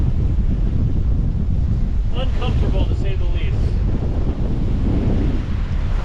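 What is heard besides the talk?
strong wind at sea on a 28ft sailboat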